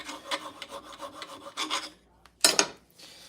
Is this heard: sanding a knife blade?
yes